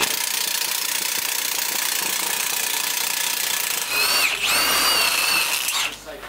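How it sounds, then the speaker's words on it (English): A Milwaukee impact driver spins a large fence-post auger bit outdoors, a steady loud whirring drone that shifts into a rising, strained whine near the end before cutting off. "these great big drill bits here that you can use for fence posts to be able to put in your hangings can be done with this"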